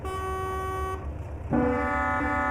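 Two loud truck horn blasts back to back from a Ford Cargo 2520 truck in Euro Truck Simulator 2, the second lower and richer in tone, each held steady for about a second.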